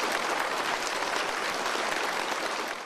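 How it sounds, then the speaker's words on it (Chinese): Warm, sustained applause from an assembled hall of delegates in the Great Hall of the People, Beijing, dense and even throughout with no voices. "当天下午4点，习近平等来到人民大会堂西大厅，全场响起热烈掌声。"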